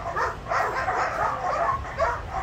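Several dogs barking and whimpering restlessly at a distance, a continuous jumble of yips and barks that keeps going with no break.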